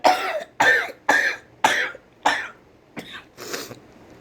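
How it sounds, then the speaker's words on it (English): A person coughs about seven times in quick succession, each a sharp close burst with a short gap between, the last few fainter and more like throat clearing, with no talking. "Yes, I still have my cough."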